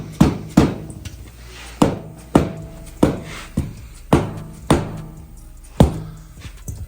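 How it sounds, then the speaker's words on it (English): Heavy hammer blows beating beadlock wheel lips around off-road tires in a shop, about ten sharp, ringing metallic strikes at an uneven pace, close and loud with no talking. "we're having to pry and hammer and beat and to get those lips around"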